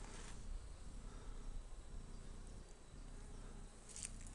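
A honeybee colony hums steadily at the entrance of a full-size hive, newly moved in from a small nucleus box, as a dense continuous drone of many wings sounds close and even with no voices.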